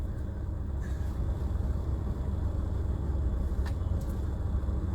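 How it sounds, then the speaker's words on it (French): Steady low rumble of a car on the move, heard from inside the cabin, with road noise and no voices. "me voici dans ma bagnole, Marlène"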